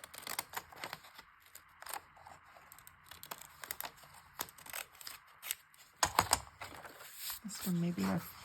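Scissors snip away a small strip of excess paper around envelopes, giving a few short crisp cuts amid quiet handling and rustling, with brief voiced sounds near the end.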